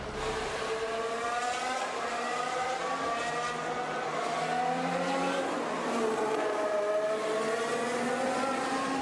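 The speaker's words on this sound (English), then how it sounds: "So we've got some more cars out on the track" Formula 1 race cars at Abu Dhabi Grand Prix practice, a loud continuous high-pitched engine whine that rises and falls in pitch as cars pass on track, sustained throughout with no talk.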